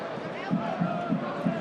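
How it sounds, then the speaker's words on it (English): A stadium crowd at HBF Park applauds for a minute's tribute during an A-League football match between Perth Glory and Wellington Phoenix, a broad, distant wash of clapping under a commentator's voice. "there'll be a minute's applause around HBF Park"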